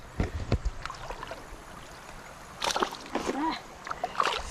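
A fish is released into a creek while wading and splashes in the water, with two short bursts of splashing close by between people talking.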